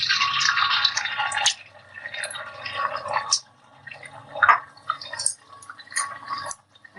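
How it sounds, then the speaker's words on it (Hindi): Four eggs go into two spoons of hot oil in a pan, setting off bursts of crackling, hissing sizzle that rise and fade unevenly, close and fairly loud. "अब हम इसमें 4 अंडे ऐड करेंगे"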